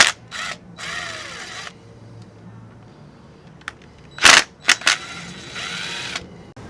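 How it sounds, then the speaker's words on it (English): An impact gun whirs in several short bursts while removing brake parts on a Honda CBR1000RR motorcycle, with louder sharp clicks and rattles between runs, close and with no talk. "I'm using a gun to remove this."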